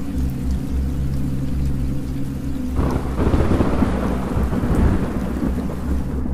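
A heavy rumble of thunder rolls in over steady rain, building into a louder, dense downpour with deep low rumbling, no voices.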